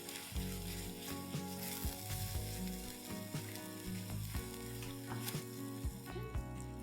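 Cooked curd with garam masala sizzles and fries in a pan as it is stirred, a close, steady crackle with soft scraping strokes and no talking.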